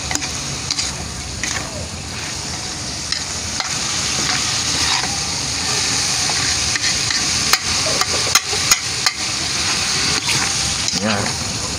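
Beef innards for papaitan fry in a pan, a steady close sizzle with scattered stirring clicks and scrapes against the metal, continuing throughout.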